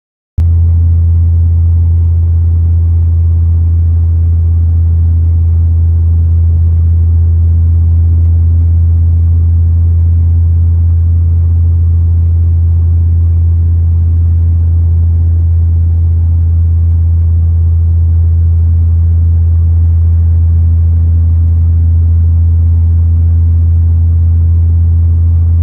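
A pickup truck towing a fifth-wheel trailer rolls down the road with a loud, steady low engine drone and rumble that holds unchanged throughout, with no talking.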